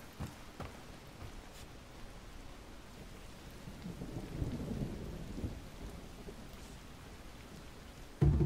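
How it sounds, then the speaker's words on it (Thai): Steady rain and rolling thunder in the kung fu video game Sifu, a continuous wash of rainfall with a deeper rumble swelling near the middle and a sharp burst right at the end, with no speech. "ฝน"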